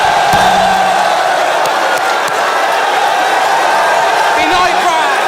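Crowd at a FlipTop rap battle shouting together in a loud, dense roar of voices and cheering that stays sustained and close throughout.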